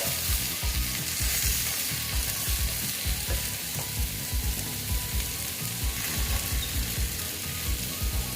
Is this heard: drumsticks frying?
yes